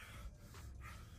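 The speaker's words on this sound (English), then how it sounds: "Drench turned the camera back on, and you could hear him breathing hard" A man breathing hard after a shooting, two or three heavy gasping breaths with a snorting edge, close and faint, no words spoken.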